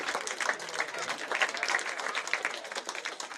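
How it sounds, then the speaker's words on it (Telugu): A festive Sankranthi closing-ceremony crowd claps continuously, a fast, dense patter of many hands heard at moderate distance, with voices mingling underneath. "Claps కొట్టండి."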